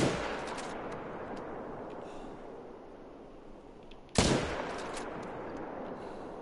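Two rifle shots ring out at whitetail deer in a hunting video game: a loud blast at the very start, then a second sharp crack a few seconds later, each trailing off in a long, rumbling echo.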